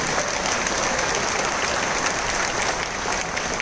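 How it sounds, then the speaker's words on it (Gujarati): Steady, dense applause from a large crowd welcoming a saint at a religious gathering, clapping continuously at an even loud level throughout. "આવો આ સંતને આપણે બે હાથ ઊંચા કરી તાળીઓના નાદે વધાવીએ"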